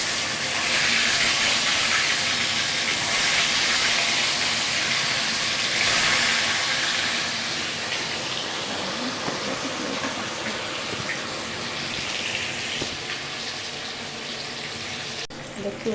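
Prawns frying in hot oil, a steady loud hiss and sizzle that fills the whole stretch with little change, crackling close by with no talk over it.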